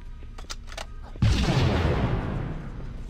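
A grenade blows up in the Halo: Combat Evolved video game. A few soft game sounds come first, then a sudden loud, deep blast hits at about a second in and rumbles on, slowly fading.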